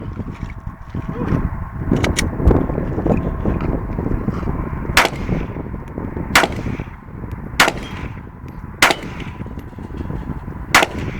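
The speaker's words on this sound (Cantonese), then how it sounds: "再幫我揸住先，再用手槍射佢。" Pistol gunfire in a video game: sharp, loud shots repeat at a steady, spaced rhythm over a continuous background of game noise and rumble.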